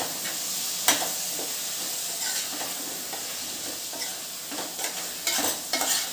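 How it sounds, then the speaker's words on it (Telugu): A spoon stirs a kabuli chana biryani mixture with beaten curd and biryani masala in a pressure cooker, scraping and sloshing in irregular strokes over a soft sizzle, close and moderately quiet. "బాగా మిక్స్ చేద్దాం।"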